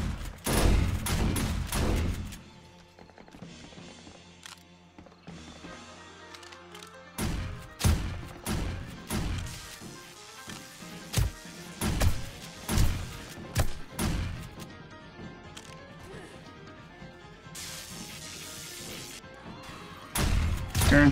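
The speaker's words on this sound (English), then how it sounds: "Man, the turrets up here are going off." Defensive turrets in 7 Days to Die fire on a zombie horde: repeated sharp gunfire bursts and heavy impact thuds come in clusters, with quieter gaps between volleys.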